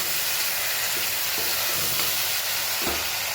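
Garlic and chutney tempering in ghee sizzling on a full gas flame for dal makhani, a constant hissing crackle with a few soft stir clicks, close, no talk.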